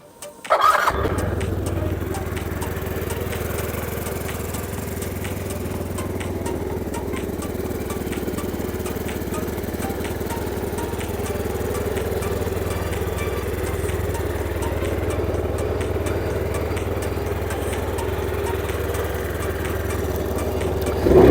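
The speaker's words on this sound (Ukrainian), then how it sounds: "Двигун працює на відмінно." A steady Yamaha Gear scooter engine idles close by, a continuous low rumble holding even throughout with no talk.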